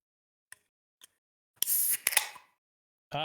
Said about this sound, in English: He's cracking open the beer.